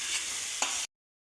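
Beetroot frying in a pan while being stirred: a steady, bright sizzle with a scraping stroke midway, then a brief cut to silence before the sizzle resumes.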